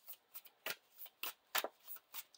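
Playing cards shuffled back into a deck, a quick run of soft riffling bursts, close and fairly quiet, with no talk.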